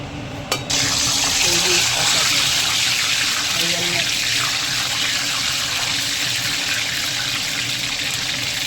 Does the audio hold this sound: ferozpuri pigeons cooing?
no